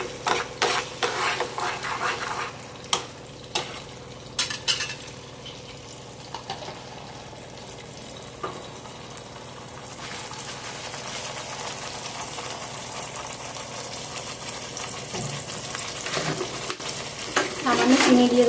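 A masala spice paste for paneer masala fries in a pan and is stirred, giving a steady sizzle with scraping strokes and a few clinks, growing a little louder toward the end.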